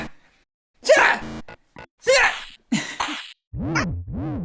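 A person sneezes several times, sharp, explosive bursts up close, ending with voiced, groaning sneezes.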